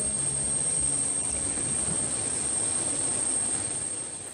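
Jet engines of an Air Koryo Tupolev 204 airliner drone steadily inside the cabin, a constant broadband roar with a faint high whine that eases slightly at the end.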